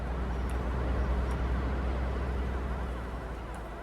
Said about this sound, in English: Emergency service vehicle. Oh yeah, it's an ambulance.